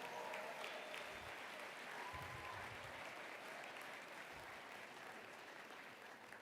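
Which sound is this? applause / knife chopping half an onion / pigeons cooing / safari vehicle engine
applause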